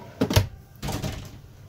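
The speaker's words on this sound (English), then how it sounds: "Pocket door" A pocket door to the master bedroom of a Winnebago Voyage 2932RL travel trailer rolls along its track in two close, moderately loud sliding strokes, with a short pause between them.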